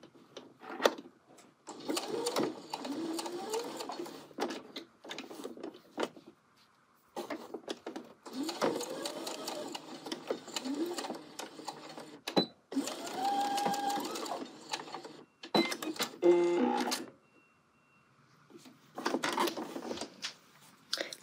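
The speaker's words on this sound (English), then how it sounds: "Lift, pivot, and just sew this last tab down" A domestic sewing machine stitches down a coat tab in several bursts of rapid mechanical chatter, each stopping short for lifting and pivoting the fabric before the last run of stitches.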